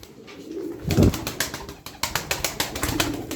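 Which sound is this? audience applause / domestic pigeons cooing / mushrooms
domestic pigeons cooing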